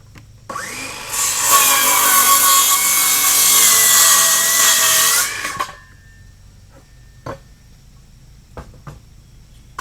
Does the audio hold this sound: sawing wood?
yes